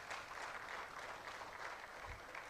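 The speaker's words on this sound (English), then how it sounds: "please give yourselves a round of applause" Faint, steady applause from an audience at a memorial lecture, a continuous wash of many hands clapping, distant and even, with no voices over it.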